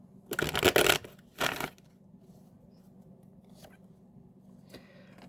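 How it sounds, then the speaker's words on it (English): Tarot cards are shuffled in two quick riffling bursts near the start, followed by a few soft, faint taps and rustles against a quiet background hum. "one more shuffle. One more shuffle."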